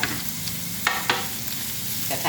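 Steady sizzling of minced garlic stir-frying in a hot steak pan, with a few sharp scraping stirs of a utensil against the metal.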